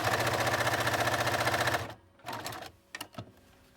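A sewing machine stitches quilt binding in a fast, steady mechanical chatter for nearly two seconds, then stops, followed by a few faint handling clicks and rustles.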